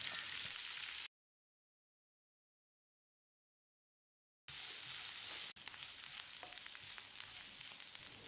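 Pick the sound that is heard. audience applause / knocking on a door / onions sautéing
onions sautéing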